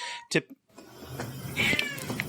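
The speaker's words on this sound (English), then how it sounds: "That was my parents' cat." A pet cat meows and caterwauls close by in a home, a drawn-out wail over a noisy background, with a voice talking at the same time.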